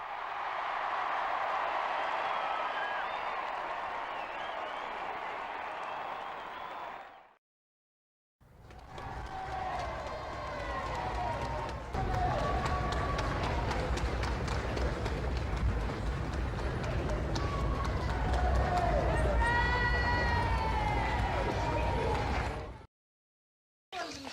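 A crowd roars and cheers at a British royal wedding. The noise is loud, dense and continuous, with shouts rising above it, and it cuts out briefly twice.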